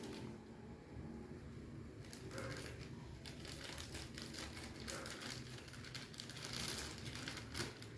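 Tissue being pushed into a plastic bag during a tempe-making lab step, giving a steady run of close, soft crinkling and rustling of plastic for several seconds with no talk.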